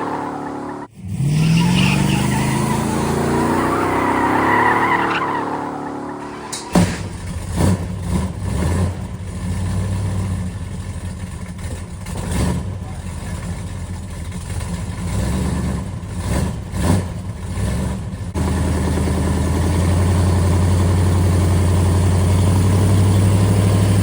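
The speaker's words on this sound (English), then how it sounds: "burning some tires, smoking them because we got them" A 1971 Dodge Super Bee runs through a burnout: the engine revs up hard, then loud tire squeal and roaring engine sustain for many seconds before easing back to a rough idle, all close and with no talking.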